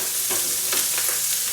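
Eel frying in a pan on a stovetop gives a steady, close sizzle that hisses continuously, with a few brief stirring scrapes and no voices.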